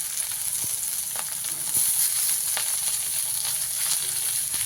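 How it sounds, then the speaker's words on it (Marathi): Vegetables dropped onto browned fried onion sizzle steadily in a hot pan, a close, continuous hiss with small crackles and occasional stirring knocks. "लाल ही कांदा लाल झाला परत ही भाजी जी मी ठेवलेली होती ती त्यात टाकली"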